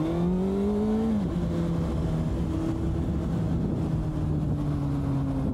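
A car engine drones nearby as the vehicle passes, its tone sliding downward with a shift, then holding a steady hum under constant road and wind noise.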